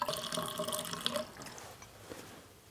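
Water trickles and splashes through a ducted heat pump's condensate drain line, busier at first and then thinning to a quieter gurgling flow with a few faint drips.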